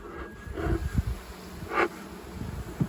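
Honey bees buzz around a hive during a colony transfer from a horizontal hive to a polystyrene hive, with a few individual bees droning past close by over a low background hum.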